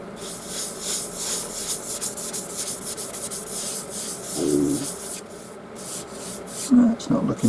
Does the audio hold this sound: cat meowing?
no